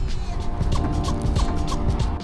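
A chicken in a tree on Maui clucks several times in a quick series over steady, windy outdoor noise, fairly close.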